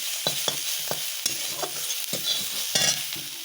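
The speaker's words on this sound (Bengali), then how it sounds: "বীজটা ফেলে দেবো তো পেঁয়াজ দিয়ে ভাজা করে নিচ্ছি" Pumpkin seeds fry with onion in a pan, with a soft steady sizzle broken by repeated scraping stirs of a spatula at an uneven rhythm, close and fairly quiet, with no voices.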